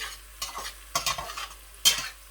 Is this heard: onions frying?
yes